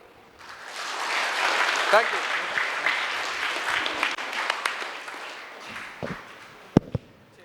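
Audience applause at an official launch event, a broad wash of clapping filling most of the stretch before thinning out near the end, with a short spoken thanks and a couple of sharp taps at the close.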